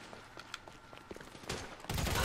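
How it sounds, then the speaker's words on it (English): Distant, faint gunfire in GTA V, with scattered shots building to a louder burst at the very end. "Stop shooting, Dave."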